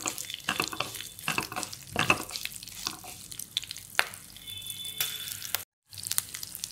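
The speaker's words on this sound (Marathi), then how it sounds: "थोडेसे तीळ, चांगलं परतून घ्यायचं." Sesame seeds sautéing in a pan, a soft, close sizzle under repeated scraping and stirring strokes of a spoon, with brief sharp clinks and a moment of silence near the end.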